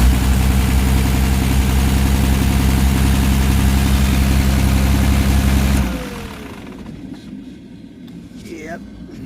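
A 12-valve Cummins diesel engine runs loud and steady at a rumbling idle for about six seconds, then shuts off and bleeds down, leaving quiet background noise with faint movement.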